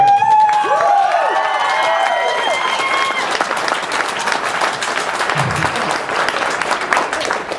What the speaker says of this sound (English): We'll see if the applause is warranted.